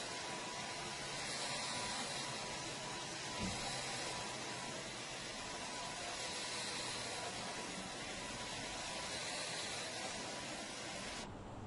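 A BESTEK 2-in-1 vacuum cleaner runs with a steady, faint, airy whoosh and hiss that holds an even level throughout and then cuts off abruptly at the end.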